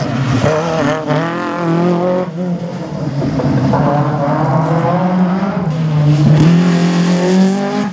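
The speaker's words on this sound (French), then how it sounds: "le pilote de la Clio qui effectue aujourd'hui ses premiers tours de roue" A Renault Clio rally car runs a slalom course at Saint-Lô, its engine revving hard through rising and falling gear changes, loud and close throughout with a brief lull near the start.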